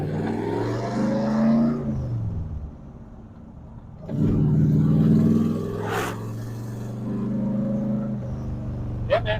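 A C3 Corvette engine running as the car drives, a deep steady rumble that swells with revs, dips briefly, then rises again, heard close from nearby with a faint click near the end.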